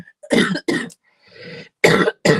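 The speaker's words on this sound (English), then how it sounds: "I still have this horrible cough" A woman with a lingering, harsh cough gives a series of loud, close, raspy coughs in quick bursts, with a breathy throat-clearing in the middle.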